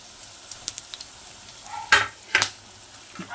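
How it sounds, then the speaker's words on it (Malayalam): Spice powders are stirred in a hot pan for a village-style lime curry, with a low sizzle under two sharp, brief scraping strokes and a few light taps, and no talking. "ഇനി പൊടികളിട്ട് മിക്സ് ചെയ്യാം"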